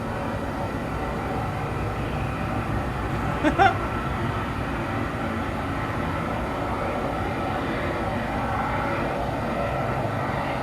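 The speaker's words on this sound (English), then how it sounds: "This F-16 showing off its afterburner during a powerful takeoff." An F-16 fighter jet takes off on afterburner, producing a loud, steady, broadband roar that holds without a break.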